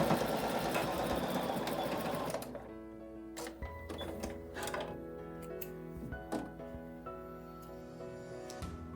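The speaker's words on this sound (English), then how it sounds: "I'm going to sew it now. It's good to backstitch at the beginning and end of the seam." Sewing machine stitching a bag seam, a fast loud whirring run that stops, followed by shorter bursts of stitching with pauses and small mechanical clicks.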